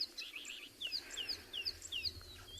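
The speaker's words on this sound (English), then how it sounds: "listening to all the birds that are around us here" At sunrise on a safari in the Tswalu reserve, several birds give short, bright chirps and whistled calls in quick repeated bursts, faint and moderately distant over a quiet low rumble.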